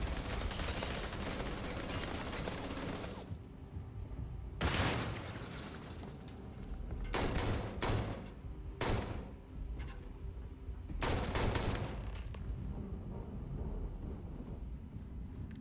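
Gunfire in the sci-fi game Starfield: after an opening stretch of dense combat noise, several separate bursts of shots ring out at intervals, moderately loud against a quieter backdrop.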